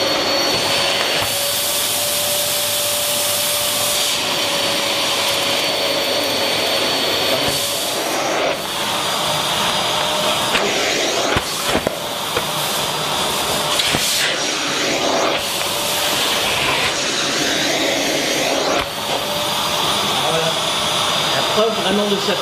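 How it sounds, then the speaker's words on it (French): A Dirt Devil Rebel25 vacuum cleaner runs steadily and loudly the whole time, a continuous motor whine with airflow roar and small shifts as it moves over a carpet. "On va passer l'aspirateur maintenant."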